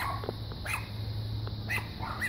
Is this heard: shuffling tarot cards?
no